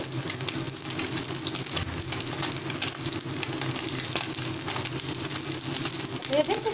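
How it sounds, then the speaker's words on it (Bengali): Small gang mourala fish fry in hot oil, giving a steady, close sizzle with faint bubbling that holds at an even level throughout, with a brief clatter near the end. "আমি উল্টে উল্টে দিয়ে দু পিঠে কিন্তু মাছের ভালোভাবে ফ্রাই করে নেব"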